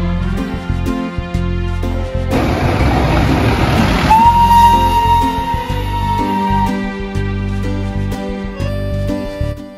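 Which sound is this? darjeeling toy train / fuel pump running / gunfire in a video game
darjeeling toy train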